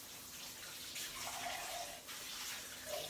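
Canned beans rinsed under a running kitchen tap in a berry and bean strainer from a salad spinner set, a steady faint hiss of flowing water with soft splashes throughout.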